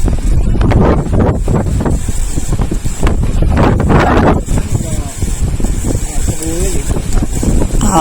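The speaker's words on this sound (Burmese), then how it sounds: "သစ်ပင်ပေါ်ကလူမပြောနဲ့အောက်ကလူတောင်လေတိုက်တော့လွန့်ကျင်တယ်" Strong wind buffets the microphone as a continuous roar beside a tall toddy palm in a village near Mount Popa, mostly running under steady nearby talk.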